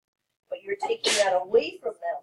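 A single sharp sneeze bursts out mid-sentence in a classroom, loud and close, while a man keeps lecturing around it.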